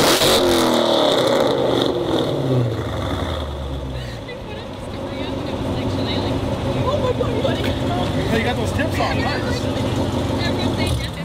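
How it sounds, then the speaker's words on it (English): Chrysler 300 fitted with American Racing headers with 2-inch primaries, a 3-inch collector and catless Hellcat mid-pipes, revving loud and close with a raspy, rising and falling engine note, while people talk over it. "This setup's got American Racing headers with 2-inch primaries and 3-inch collector, plus catless mids from a Hellcat."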